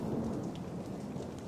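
Rain falling steadily with a low thunder rumble underneath, a dense continuous wash, fairly faint and with no voices.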